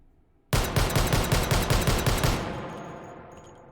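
A Desert Eagle .50 AE pistol with a muzzle brake fires in the H3VR game: a rapid, evenly spaced string of about nine loud, sharp shots, followed by a fading echo.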